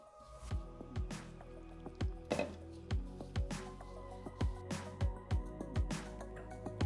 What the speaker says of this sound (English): I'm going to knead the dough with cold water.